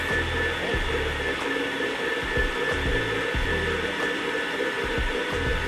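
An electric mixer runs steadily through cheesecake batter for a peach cobbler cheesecake, a loud continuous whirring with faint rhythmic knocks from the beaters.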